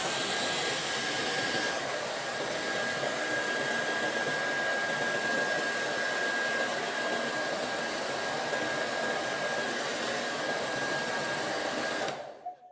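Hand-held hair dryer blowing steadily on hair during a 90s-style glam blowout, a loud continuous close whoosh with a faint whine that cuts off abruptly at the end.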